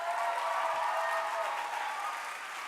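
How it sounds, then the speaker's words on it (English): Audience applause after a conference talk, a dense wash of clapping that holds steady and then fades slightly, heard alone. "Let's give him another round of applause."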